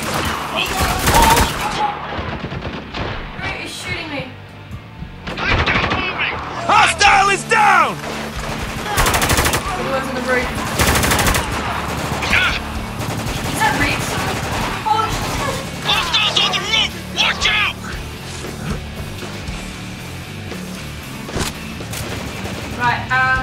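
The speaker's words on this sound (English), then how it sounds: "Great, he's shooting me." Enemy gunfire in the video game Spec Ops comes as loud bursts of automatic fire and single cracks, with heavy volleys spread across the whole stretch and talk mixed in between the shots.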